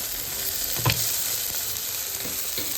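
Fish frying in a pan, a steady broadband sizzle with a brief louder burst near the start, no voices.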